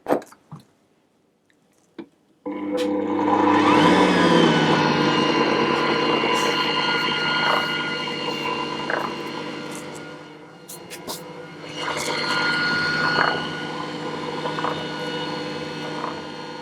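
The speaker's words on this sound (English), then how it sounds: "And I'll mix that on a low speed." After a brief quiet start, an Ankarsrum stand mixer whirs on low speed as flour is mixed into an Earl Grey tea cake batter. The motor hum is steady and close, dips briefly partway through, then resumes.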